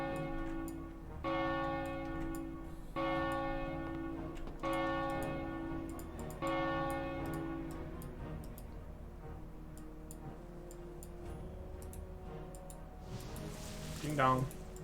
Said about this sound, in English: Let's go ring the bell.